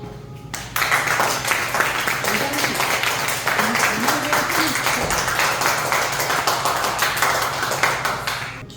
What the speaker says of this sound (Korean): 한 명 한 명 나올 때에는 박수 쳐주시고